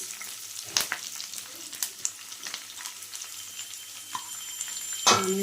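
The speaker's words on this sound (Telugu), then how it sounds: "కొంచెం ఇలా ఉల్లిపాయలు కొంచెం వేగిన తర్వాత" Onions sizzle and fry steadily in a pan while cooking mutton chukka, with occasional stirring scrapes and a louder clatter near the end, no talking.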